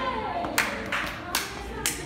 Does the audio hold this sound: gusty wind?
no